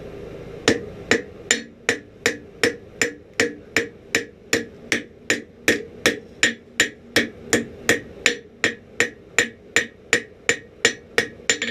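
Hot steel hammered on an anvil to chamfer the edge of a forged 1700s-style scalping knife, a long, loud, evenly paced run of about thirty ringing blows, close and without speech.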